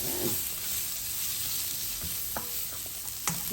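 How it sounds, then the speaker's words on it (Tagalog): Pork spare ribs with black pepper sizzle and fry in a pan for adobo, a steady close hiss with occasional clinks of a utensil stirring, no voices over it. "So isusutay lang natin hanggang sa lumabas ang aroma nito."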